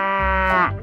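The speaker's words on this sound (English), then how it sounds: "Cow." A cartoonish cow moos in a 3D animal slide game, one drawn-out, bright harmonic call lasting under a second, loud and close with no talk over it.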